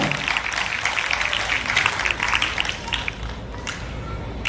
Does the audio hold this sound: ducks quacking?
no